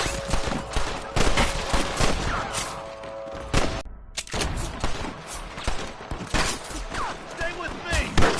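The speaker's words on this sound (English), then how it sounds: "I can hear more gunshots." Gunfire in the video game Red Dead Redemption, a dense fusillade of repeated shots and heavy thumps running throughout, with a brief silent gap near the middle and voices shouting over the shooting.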